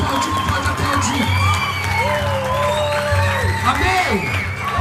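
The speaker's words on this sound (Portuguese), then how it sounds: "Pode aplaudir, pode aplaudir, pode aplaudir, pode aplaudir." A church congregation cheers and shouts loudly in a dense, continuous roar with raised voices and whoops throughout, applause mixed into the din.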